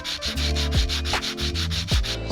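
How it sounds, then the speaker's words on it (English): Sandpaper on a sanding block scrubs over an R32 GTR brake caliper in quick regular back-and-forth strokes, close and continuous, with no talk. "So I'm just going to take the sandpaper and try and make them smooth"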